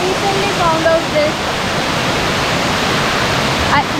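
Kothapally waterfall in Andhra Pradesh pours in a steady, loud, broadband roar that fills the whole stretch, with faint bird or voice traces barely rising above the rushing water.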